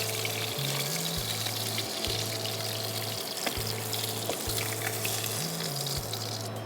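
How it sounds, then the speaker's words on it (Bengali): Pieces of rui fish fry lightly in oil, giving a constant gentle sizzle close by with no talking, while a steady low electronic tone runs underneath. "একদম হালকা করে ভেজে নিয়েছি।"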